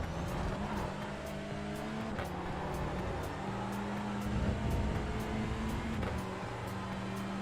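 A front-wheel-drive touring car in the iRacing sim at Interlagos, the Autódromo José Carlos Pace, drones steadily near at hand, its engine pitch rising and dipping through shifts with no voice over it.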